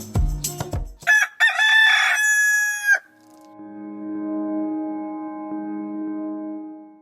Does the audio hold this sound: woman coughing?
no